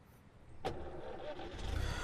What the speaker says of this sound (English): Blue starts the engine and pulls out of the parking lot